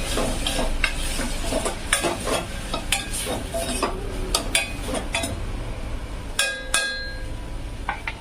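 Washed dal stirred into a hot pan of frying cabbage bhaji: steady loud sizzling under repeated scraping and clinking of a metal spoon against the pan, close up and without talk.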